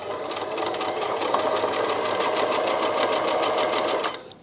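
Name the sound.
Brother My Star 3 sewing machine running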